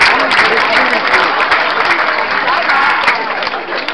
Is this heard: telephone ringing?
no